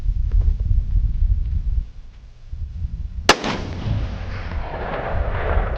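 A single loud, sharp rifle shot from a Ruger American Gen 2 in .308 cracks out close by, following a stretch of low wind rumble and trailing off into a fading outdoor echo.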